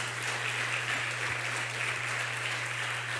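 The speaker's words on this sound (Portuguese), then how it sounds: "Você pode dar uma salva de palmas para Jesus?" A congregation at an evangelical church service gives a round of applause, a continuous wash of many hands clapping at a steady moderate level, with a low hum running underneath.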